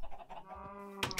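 Chickens on a Minecraft farm let out a short burst of clucking calls in the video game, brief and fairly close, with no talking.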